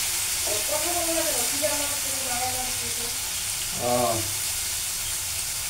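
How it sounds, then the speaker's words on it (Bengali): Fish curry with potatoes fries in a pan, giving a steady close sizzle throughout, with a brief voice near the start and a short burst of stirring toward the end. "রান্না করতেছি ছেলের জন্য আলু দিয়ে মাছ।"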